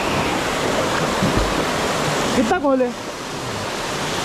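A hidden waterfall in Ahmednagar roars as a loud, steady wash of rushing water throughout. A man calls out briefly over it partway through.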